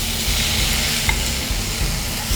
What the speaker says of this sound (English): I'm going to add in some chopped tomatoes